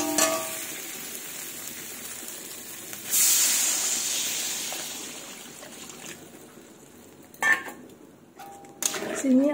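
Water is poured into a pan of fried spiced potatoes in a fish curry, setting off a sudden loud hiss of steam that slowly fades, followed by a couple of sharp clinks of utensils against the pan.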